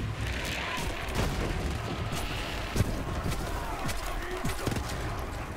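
Gunfire from the video game Borderlands 3 crackles in dense bursts of shots and impacts, with a few louder bangs standing out over a busy battle mix.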